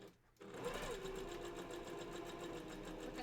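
A sewing machine back-stitches fabric for a fursuit bandanna, its steady rapid needle chatter starting after a brief quiet moment and running on evenly, close and clear, with a faint voice murmuring underneath.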